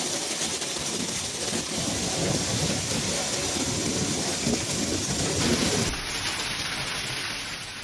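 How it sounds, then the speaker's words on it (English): Torrential rain with hail pounding down in Ontinyent, Valencia, during a storm with flooded streets, a loud, dense, steady roar of falling water and impacts that abruptly shifts in character near the end. "Eyewitness reports and videos showed thick hail, torrential rain, reducing visibility to just a few meters"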